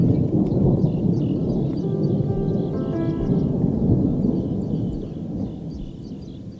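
Deep thunder from a fast-developing thunderstorm rumbles continuously, a low sustained roll that swells and slowly fades, heard from a distance with no voices.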